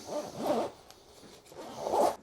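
Zipper closing the laptop pocket of a personal item travel bag, two close, drawn-out zipping pulls separated by a short pause.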